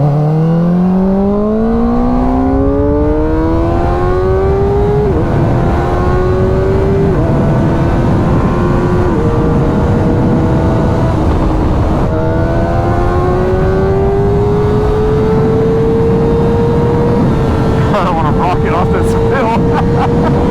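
Kawasaki ZX4RR motorcycle engine under riding, a loud, close high-revving whine that climbs steadily through the gears with brief dips at shifts, continuous over wind noise.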